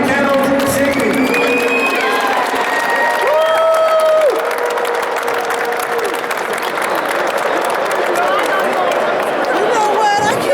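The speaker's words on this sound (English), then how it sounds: "So give a big round of applause for Master P. Kennels Singing." A crowd at an ABKC nationals dog show applauds and cheers loudly for a kennel, with dense clapping, whoops and overlapping voices and chatter throughout.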